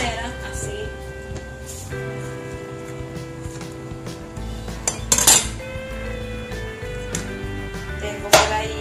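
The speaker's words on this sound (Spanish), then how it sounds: "Vamos a cortar todas las puntas de esta manera, así." A knife cuts the ends off zucchini for a healthy stewed zucchini dish, giving two sharp taps on the board over steady background music.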